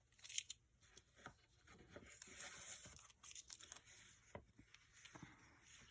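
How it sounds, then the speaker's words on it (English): Tape being peeled off a sewn dog toy blanket, several close, dry tearing and crinkling rips in short irregular bursts, heard alone without talk. "I'm just going to take this tape off here."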